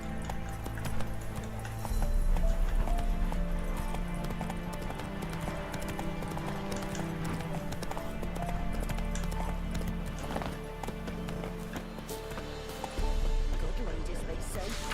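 Horse hooves clip-clop at a steady galloping rhythm in The Witcher 3, set against a continuous musical and ambient game backdrop with voices talking over it.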